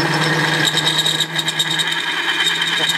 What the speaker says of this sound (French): Est-ce que là, je vais arriver à percer ?